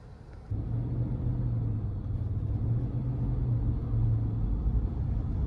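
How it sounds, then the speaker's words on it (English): Low, steady road rumble of a 2023 Cadillac Escalade Premium Luxury cruising, a continuous engine and tire drone with a faint hum that holds evenly throughout, heard from inside the cabin. "we're gonna go ahead and take this Escalade Premium Luxury out on the road for a quick test drive"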